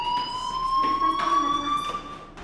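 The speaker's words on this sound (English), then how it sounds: "Hey, do you hear that fire alarm?" A school fire alarm in the video game Life is Strange rings as a steady, loud electronic tone with bright harmonics, sounding continuously and alone throughout.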